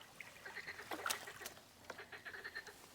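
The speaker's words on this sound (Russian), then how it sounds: "Птички поют" Birds call by a lake where crucian carp are being fished, giving short, faint, scattered chirps and honk-like cries over a quiet outdoor background.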